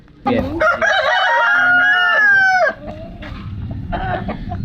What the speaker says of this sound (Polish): Tu w tych koszach się były kurczaki, które albo są przed walką, albo po walce